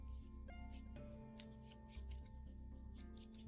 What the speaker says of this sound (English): we are going to shuffle the 2 decks, the Settlers deck and the World deck